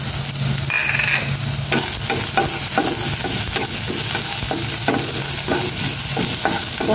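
Onion and garlic frying in a little oil in a pan, a steady loud sizzle with repeated scraping stirs of a utensil throughout, no talking.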